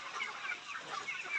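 Layer chickens on a poultry farm cluck in a soft, busy chorus of overlapping calls. The sound is fairly faint but continuous, with no speech.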